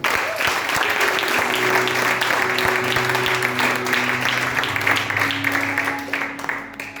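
A church congregation at a Sunday service breaks into sustained, loud applause, a dense wash of clapping that holds steady before easing slightly at the end, with faint voices and a held musical tone beneath.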